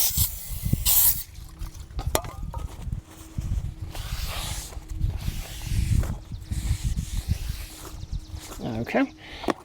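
Brake cleaner sprayed onto a brake rotor during front brake work on a Hyundai Palisade, short hissing aerosol bursts repeated in spurts, close to the microphone, interleaved with clatter and handling noise.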